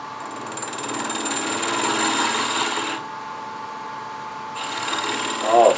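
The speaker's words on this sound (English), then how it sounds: "it's a holder with a carbide cutter, and that ought to work, ought to cut real well." Carbide cutter on a holder in a sphere cutting jig shaving a spinning wood blank, a loud rasping scrape that swells, drops off for a moment, then returns, with no talking.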